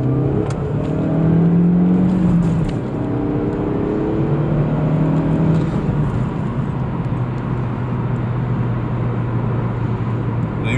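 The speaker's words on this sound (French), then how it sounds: "Petite accélération 50 à 100," A modern car with a retro look accelerates hard from 50 to 100 km/h, its engine droning steadily and climbing through the gears for about ten seconds, loud and close, with no talking.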